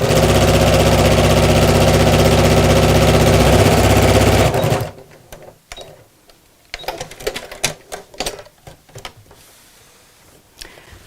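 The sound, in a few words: sewing machine sewing across a craft bag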